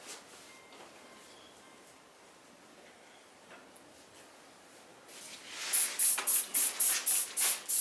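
A spray bottle squirts water onto a pottery apron in a quick run of about eight rhythmic hissing bursts, close by, after several seconds of quiet room noise.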